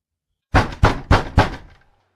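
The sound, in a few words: loud knocking on a door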